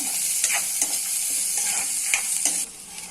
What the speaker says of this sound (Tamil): பூண்டையும் போட்டு கொஞ்சம் ப்ரௌன் ஆகிற வரைக்கும் வதக்கலாம்.